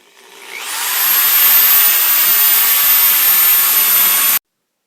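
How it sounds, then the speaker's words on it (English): A power drill runs steadily at full speed for about four seconds, driving screws through pilot holes into the wood of a rack for storing 55-gallon water barrels. It is loud and close, with no talk, and stops abruptly. "let your drill save you a little bit of work by taking the time to drill some nice pilot holes"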